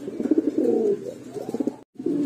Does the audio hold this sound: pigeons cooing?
yes